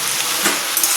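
Pui shak (Malabar spinach) chachari cooked with mustard paste sizzles loudly in a pan as it is stirred, with a bright, continuous frying hiss and a few soft scrapes near the end.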